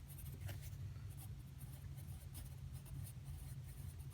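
A pen or marker draws a graph of x squared on a writing surface during a lesson, faint scratchy strokes heard over a steady low hum.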